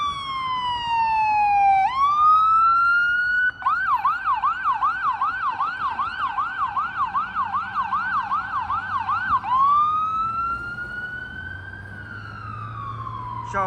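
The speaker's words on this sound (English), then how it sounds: "And those sirens are very common to hear around the city." Loud, close ambulance and fire engine sirens wail up and down, switch to a fast warbling yelp, then return to a slow wail over rush-hour traffic noise in downtown Toronto.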